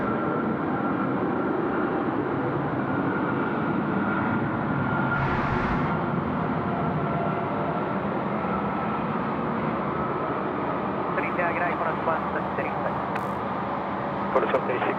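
A cargo jet, UPS flight 748, lands on runway 16 right at Sydney Airport at night, heard from the control tower as a steady, broad engine roar with voices present throughout.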